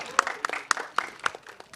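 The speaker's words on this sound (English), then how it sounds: "Can we have a huge round of applause for Bobby sir?" A small audience claps in a loose, uneven rhythm, with several sharp claps standing out over a couple of seconds.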